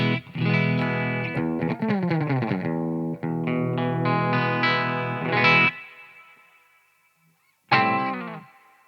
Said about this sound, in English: It's more of a plate style reverb, I guess, than a tube reverb.